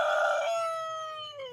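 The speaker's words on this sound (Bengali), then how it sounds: "মোরগটা কি সুন্দর ডাকছে সকালে" A village rooster crows once in the morning, a clear drawn-out call that tails off slowly, fairly close and alone against a quiet background.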